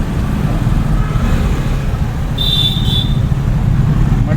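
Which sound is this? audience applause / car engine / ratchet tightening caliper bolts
car engine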